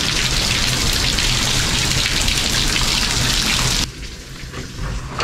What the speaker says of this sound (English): It's just been raining, pouring all night.